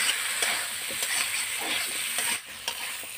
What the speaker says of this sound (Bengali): এবার দিয়ে দেবো মটরশুঁটি, আর কিছুক্ষণ কষে নেব।